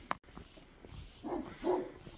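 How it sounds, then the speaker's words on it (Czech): A single dog barks faintly in the distance across a village on a frosty night, a couple of muffled barks carrying through the cold air. "Začne štěkat jeden pes."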